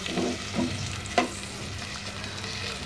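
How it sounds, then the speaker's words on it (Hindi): Onions frying in oil for an egg masala, with a steady close sizzle and a few spoon scrapes and stirring knocks against the pan. "प्याज डाल के हम इनको अच्छी तरह से मिक्स करेंगे और इनको हमने फ्राई करना है"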